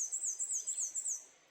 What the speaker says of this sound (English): Got birds.